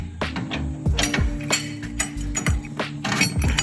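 Metallic clinks and knocks as the lower control arm from a FDF Raceshop Mega Mantis angle kit slides into place on a C6 Corvette, with several close, sharp hits spread over a few seconds.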